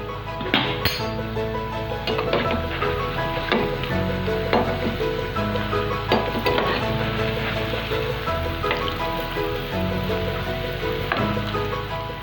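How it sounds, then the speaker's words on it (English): Dahi vadas frying in oil in a pan over a medium flame give a steady, close sizzle, with occasional clinks of a utensil against the pan as they are turned. "They are frying on medium flame."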